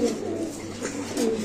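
Beauty pigeons at a pigeon seller's coo in low, steady murmuring rolls, close and continuous with a few louder swells.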